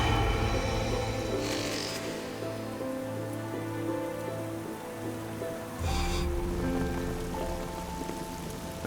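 Heavy rain pours steadily onto an exposed mountain ledge, a continuous dense hiss that swells louder near the end, with a low sustained tonal hum running beneath.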